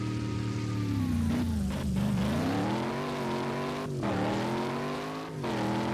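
Racing car engine in the Ultimate Driving video game, a loud sustained drone that rises and falls in pitch with repeated revs and gear shifts, continuous throughout with no talk.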